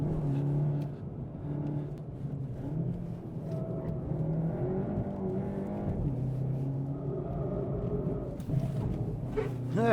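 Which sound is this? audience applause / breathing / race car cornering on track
race car cornering on track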